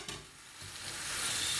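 A pot of cut-up vegetables sizzles softly as food is stirred in it, with a short, faint, steady frying hiss and no talking.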